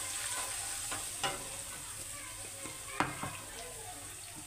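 Yellow chili and spices fry in a pan as the base for a kebab gravy, giving a constant close sizzle broken by a few brief spatula scrapes and taps.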